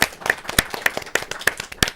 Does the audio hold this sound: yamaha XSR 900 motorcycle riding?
no